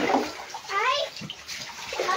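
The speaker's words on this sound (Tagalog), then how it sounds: "Ang tubig baha dito sa bahay." Floodwater inside a house sloshes and splashes close by in short bursts, with children's voices heard around the water.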